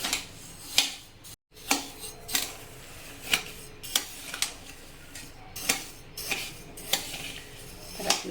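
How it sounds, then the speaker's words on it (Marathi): Rice dry-roasting in a pan for chakli, a sparse background hiss broken by regular metallic scrapes and clinks of a spatula against the pan, about one every half second, with no talking. "आपला छान असा तांदूळ भाजून झालेला आहे"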